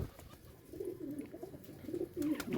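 Pigeons coo in a loft, soft low warbling calls repeating close by in a quiet space, with faint rustles between them.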